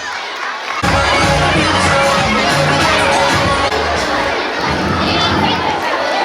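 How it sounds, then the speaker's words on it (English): A crowd of schoolchildren at a Children's Day event bursts into loud cheering, shouting and applause, a dense roar that starts abruptly and holds steady, up close. "Give them a big round of applause as they walk towards the dais."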